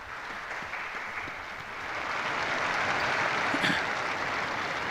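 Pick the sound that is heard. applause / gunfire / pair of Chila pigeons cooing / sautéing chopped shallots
applause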